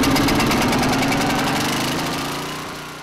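A small engine runs at half choke, a close, loud, steady mechanical drone with a rapid rhythmic pulse that gradually fades over a few seconds.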